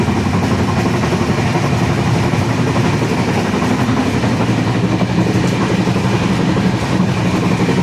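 A moving train heard from inside an AC 2-tier coach: a steady, loud rumble with continuous rattling and clatter throughout, and no voices.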